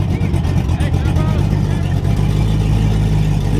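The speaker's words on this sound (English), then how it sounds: "So this truck's about to back in." A heavy truck engine rumbles and revs loudly close by as it backs in at a car meet, a deep steady drone with rising throttle, while people talk over it.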